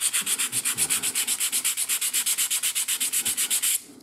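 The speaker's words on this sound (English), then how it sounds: "I'm just going to sand the end faces because they're going to be glued eventually." Hand sanding the end faces of wooden steam engine parts, a quick even back-and-forth rasp of about two dozen close strokes, crisp and alone, stopping abruptly.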